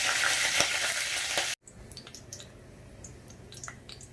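Green chillies fry in hot oil: a loud sizzling hiss cuts out abruptly, then quieter scattered crackles and spits continue close by, no voices.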